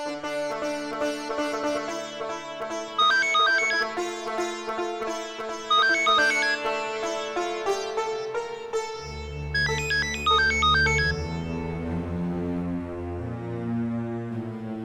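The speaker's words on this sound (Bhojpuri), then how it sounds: "केकर फोन बा?" A mobile phone plays a melodic tonal ringtone that repeats its phrase steadily and fairly softly, with a deeper sustained tone entering partway through and no voices over it.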